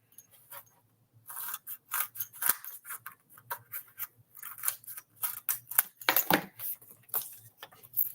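Scissors snip repeatedly at close range, a quick irregular run of sharp crisp cuts with short pauses between.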